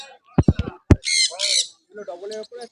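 Yellow-sided and pineapple conures at a bird market let out a few sharp squawks and harsh, buzzy calls in quick bursts, close by, with a voice or two mixed in.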